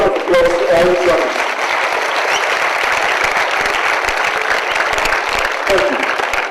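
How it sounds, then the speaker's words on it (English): Sustained loud applause from an indoor audience at a competition event in Dubai, honouring the judges, with dense clapping throughout and brief voices over it. "Huge round of applause to all the judges."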